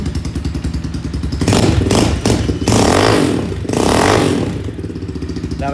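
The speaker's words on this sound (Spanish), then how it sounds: "La verdad es que suena fuerte," Loud exhaust bursts from a modified Vento Rocket 250 café racer fitted with a megaphone muffler, revved in three strong surges over a steady idle burble, close by with no talk.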